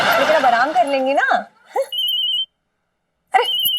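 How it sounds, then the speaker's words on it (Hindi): A telephone rings at home, a steady electronic ringing tone that sounds in a short burst and then again, loud and close, following a stretch of excited talk. "अरे फोन आ रहा है भाभी का"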